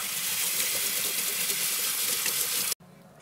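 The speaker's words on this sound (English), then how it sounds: "Rinse them well under cool running water." Cool tap water runs steadily over mung beans being rinsed, a close, continuous rushing hiss that stops abruptly near the end.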